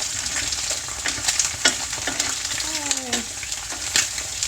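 Eggs frying in a pan with a steady close sizzle and crackling splatter throughout, a few sharper pops standing out, and a voice speaking briefly over it.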